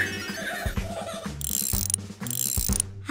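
A cartoon wrench turns and tightens tractor gears, a run of clicking ratchet and clanking mechanical sounds in quick repeated bursts, close and busy under playful effects.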